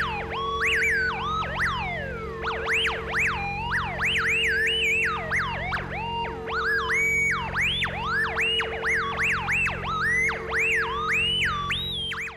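Wailing, warbling electronic tones repeat in rapid rising and falling sweeps over a steady low hum after the Space Docker horn sounds at a hippie camp in GTA V, loud and continuous with no talk.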